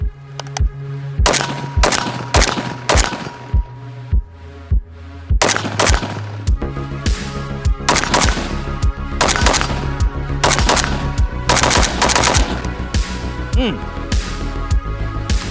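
Galil ACE 556 rifle fired outdoors in loud, sharp bursts and rapid single shots, each crack ringing out close with quick echoing tails, the volleys broken by short pauses.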